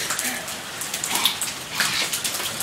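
Heavy rain falls outside during a Southern California hailstorm, a dense, loud hiss of drops pattering on surfaces close by, steady throughout with no voices.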